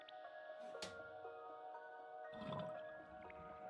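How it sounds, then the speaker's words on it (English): A pulled lever in the Eterspire video game sets water draining, heard as quiet dripping, trickling and ticking with a soft gurgling surge near the end over a faint steady hum. "Okay, you hear the sound of water being drained."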